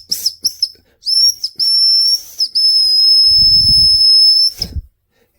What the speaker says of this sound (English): This whistle, nice design, but it is not very loud.